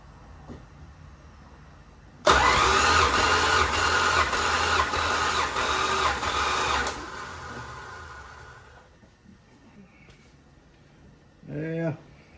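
Tired, neglected old Slant six engine cranking over on the starter during a cylinder compression test with a slightly weak battery, a loud rhythmic chugging for several seconds that then stops, followed by quieter talk.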